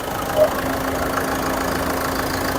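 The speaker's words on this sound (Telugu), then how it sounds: "ఇంజన్ అయితే ఎక్సలెంట్ ఉందండి చాలా సైలెంట్ ఉంది" A 2015/16 Ford EcoSport diesel engine idles at close range with a steady, even rumble and hum that holds without change throughout.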